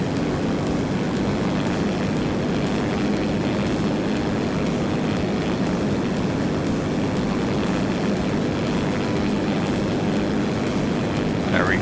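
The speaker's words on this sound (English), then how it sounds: "See if that gets off the ground, and we're also keeping the freaking front prop. It's a combo jet and prop for no good reason." A combination jet and propeller plane takes off in the Simple Planes flight game, giving a loud, continuous engine roar with a droning propeller note that stays steady throughout and has no talk over it.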